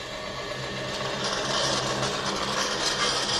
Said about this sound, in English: So right now I've got blades running on the inside.